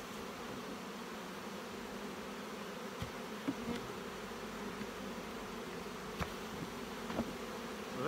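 Honeybees buzz continuously in a dense, droning swarm close by around hive boxes during a nuc transfer, with a few soft knocks and clicks scattered throughout.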